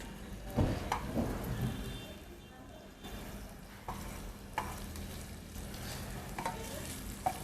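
Koftas and onions sizzling in a pan on rising heat, a soft continuous fry with occasional clacks and scrapes of stirring, no voices.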